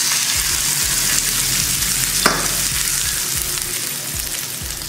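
Dried red chili and curry leaves sizzle hard in hot oil for a chutney tempering, a bright, continuous close-up crackle with a few soft clinks of a spoon.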